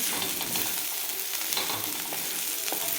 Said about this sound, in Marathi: तेलामध्येच तुम्ही लाल तिखट आणि हे आपलं काळं तिखट आहे ना ते टाकून परतून घेतल्यानंतर आणखी छान तर्री येते